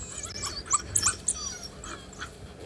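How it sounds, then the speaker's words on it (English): African wild dogs on a South African safari trade high-pitched chirps, whines and squeaks in a greeting, a cluster of bright calls over steady outdoor background noise, moderately near and without speech. "Very typical greeting for a wild dog."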